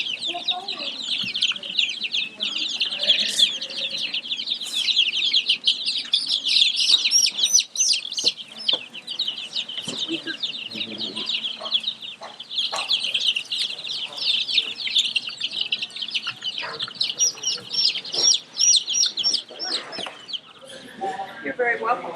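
Golden Comet hens cluck and chatter in a dense, continuous flock chorus, close and fairly loud, with overlapping calls throughout and faint human voices in the background.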